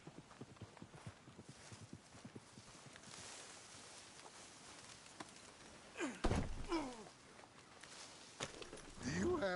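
Hooves of a horse clip-clop in Red Dead Redemption II, a soft, quick run of hoofbeats near the listener. Later a voice speaks over them.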